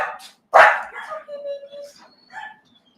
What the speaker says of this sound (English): That's the dogs telling the delivery guy, like, how dare you come to our door?